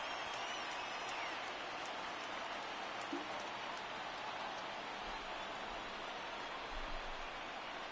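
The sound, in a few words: baseball stadium crowd cheering, from video game MLB The Show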